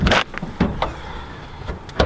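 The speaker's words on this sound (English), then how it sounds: "Let's open the hood." Hood of a car with a 1JZ engine and a cracked windshield being opened, with a few sharp clunks and latch clicks close by, followed by quieter rattles and a final knock.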